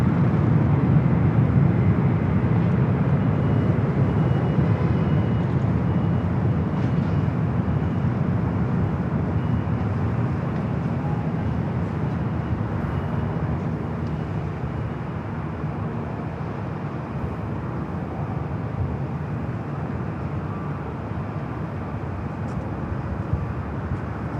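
An Air New Zealand Boeing 777-300ER begins its takeoff roll on runway 24L at Los Angeles International Airport, bound for Atlanta: a broad, steady jet engine roar heard from a distance that holds level and slowly eases off.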